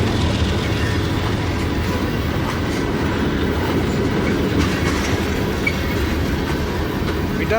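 A freight train led by four engines, including a Santa Fe warbonnet, rolls past up close with a loud, continuous rumble and rhythmic clickety-clack of wheels over rail joints, a faint wheel squeal mixed in.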